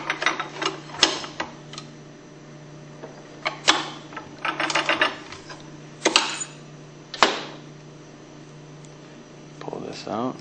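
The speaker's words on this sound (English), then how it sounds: "Next, we'll remove the retaining ring that's on top of the bearing." Metal clicks, scrapes and tool rattles on a Hypro 9303C centrifugal pump as a retaining ring is removed from above the bearing. The bursts are irregular and close, with a faint steady hum underneath.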